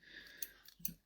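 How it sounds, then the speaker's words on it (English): Hairdressing scissors snip through hair while trimming a fringe, giving a few quiet, crisp metallic clicks at close range with no talking. "I'm literally just going to cut into it so it's not so straight."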